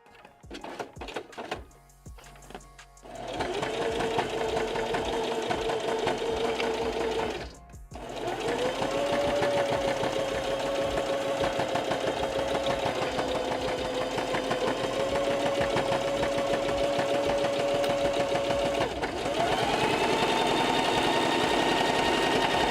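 A sewing machine runs in long, steady stitching bursts with a whirring mechanical hum, pausing briefly early on and again mid-way before resuming, close and clear in a workshop.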